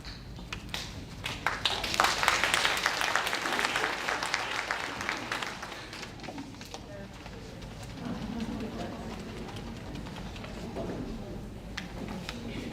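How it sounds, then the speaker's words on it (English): Audience at a school teacher in-service clapping in a large room, a dense burst of applause that swells and fades over several seconds, with some talking and room noise mixed in. "So you're clapping for Mary, but not for the presentation, right?"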